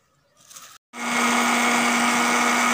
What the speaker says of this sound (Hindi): अब इन टमाटरों में हम दही डालेंगे ताकि आसानी से ये ग्राइंड हो जाए।